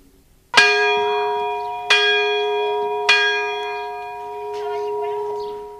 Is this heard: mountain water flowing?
no